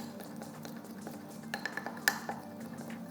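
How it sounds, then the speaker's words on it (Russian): A spoon stirs orange and then green melted chocolate for a Dubai-style kataifi chocolate bar, making quick light clinks and scrapes against a bowl with a sharper tap near the end, soft and close with no talking. "И теперь мы быстренько перемешиваем оранжевый и быстренько перемешиваем зеленый."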